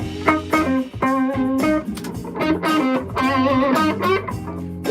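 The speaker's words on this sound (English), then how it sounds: "There's my crunch sound" Crunchy distorted electric guitar strumming chords in short bursts, gritty and loud, played alone without any talking.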